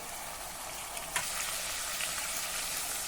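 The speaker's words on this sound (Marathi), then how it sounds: "कांदा आलं लसूण छान हलक्या तांबूस रंगावर परतून झालं. आता यामध्ये एक मध्यम आकाराचा टोमॅटो घालूया." Chopped tomato frying in a pan with onion, ginger and garlic for a Maharashtrian potato curry, giving a steady close sizzle throughout with a brief louder crackle as it is stirred.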